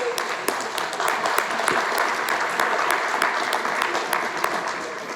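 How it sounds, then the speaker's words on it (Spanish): An audience at a gathering breaks into steady, sustained applause for a teacher, with dense clapping throughout and a few voices mixed in. "Un aplauso para el profe."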